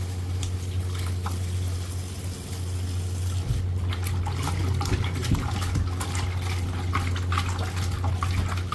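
Mutton being washed in a pot of water: steady splashing and running water close by, with scattered knocks and sloshes of the meat being rubbed and rinsed over a low hum.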